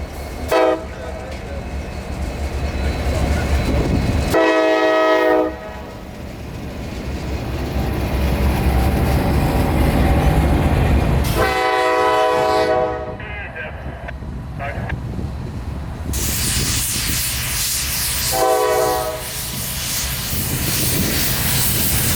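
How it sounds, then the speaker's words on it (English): An overhauled, rebuilt SD70 Max freight locomotive rumbles past loudly with heavy rolling noise and sounds its horn in three long blasts spaced several seconds apart. "These are overhauled and rebuilt SD70 Max."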